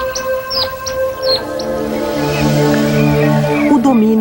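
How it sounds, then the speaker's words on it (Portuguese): African fish eagle calling over the Okavango Delta, a series of sharp high yelping cries early on, moderately near, under a sustained narrator's voice and background tones. "o pio evocativo da águia pescadora africana"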